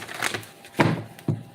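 Tarot cards are shuffled by hand in three quick papery riffles, each a short crisp burst followed by a brief pause.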